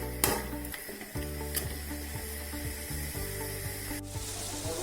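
Half a kilo of cleaned prawns sizzling in a pan for Malabari chemmeen biriyani, a steady close fry with a few stirring scrapes and a sharp clatter near the start.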